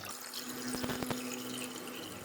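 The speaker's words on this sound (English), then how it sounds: "I put about 600 ml of water" Roughly 600 ml of water poured into a cooking pot for tom yum clam soup, a steady faint splashing stream heard alone with a few brief clinks midway.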